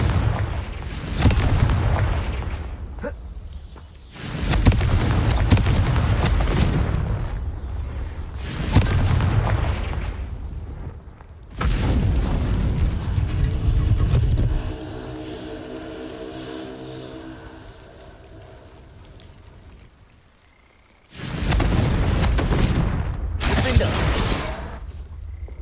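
Confringo blasting spells set off booming explosions in Hogwarts Legacy, several heavy, loud bursts with rumbling decays and brief gaps between them, close and with no voices.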